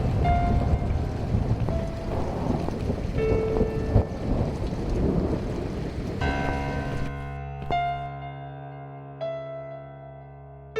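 A thunderstorm in The Cat Lady game rumbles on with a dense roar of rain and low thunder for several seconds, then cuts to quiet held tones as the storm noise drops away.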